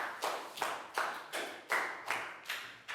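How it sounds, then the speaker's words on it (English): A class applauds a pupil during a Year 4 English lesson with a short burst of brisk, rhythmic clapping, several hands striking at a steady beat, close and without talk. "Big round of applause for Pangpon, guys."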